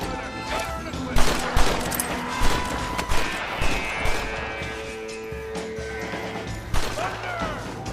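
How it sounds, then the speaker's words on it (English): Gunfire in the Western video game Red Dead Redemption, a rapid series of sharp shots and impacts in a fusillade over game music and background noise, with character voices talking in the clip. "I'll shoot you some space."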